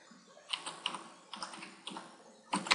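Keys tapped in short bursts on a computer keyboard while text is typed into a file on a Windows PC, close and clear with pauses between clusters of keystrokes.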